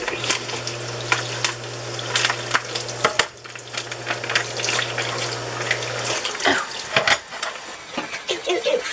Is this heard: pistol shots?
no